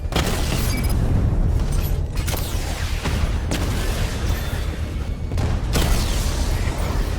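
A heavy, rumbling explosion as a drone is hit in Batman: Arkham Knight, with low booming blasts and mechanical clatter throughout and several sharp pops and cracks scattered across the din.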